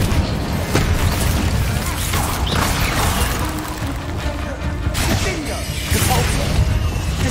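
A Confringo fire spell bursts in Hogwarts Legacy amid dense combat noise, with booming impacts and whooshing blasts layered into a loud, continuous clash.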